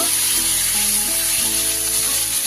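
Paneer pieces tossed in hot oil in a pan, giving a loud, continuous close-up sizzle with faint stirring movements underneath.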